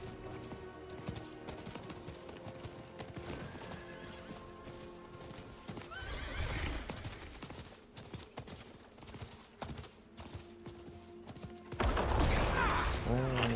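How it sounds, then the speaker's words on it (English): A horse in Diablo IV clip-clops along at a steady pace, its hooves close and clear, with a whinny and bursts of game effects near the end. "I'm guessing you're gonna go on your horse."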